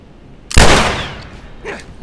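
A single loud gunshot from the video game The Last of Us, a sharp blast at close range with a short fading tail, followed by faint rustling.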